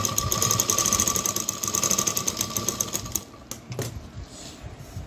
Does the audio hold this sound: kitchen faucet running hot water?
no